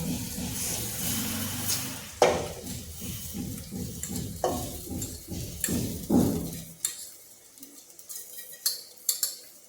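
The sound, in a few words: washed rice being roasted in a pan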